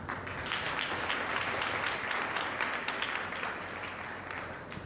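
Church congregation applauding together at a Father's Day service, a steady wash of many hands clapping that holds for several seconds before slowly tapering off.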